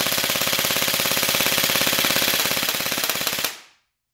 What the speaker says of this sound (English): Standard nylon gearbox in there. Let's just give it a burst.